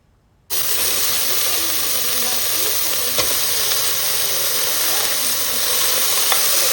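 Crushed onion and washed legumes fry in a pan for leg soup, a loud close sizzle that starts abruptly and continues steadily, with occasional clicks of stirring and no talking.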